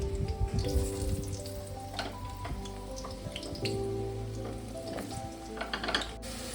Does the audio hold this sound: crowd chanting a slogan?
no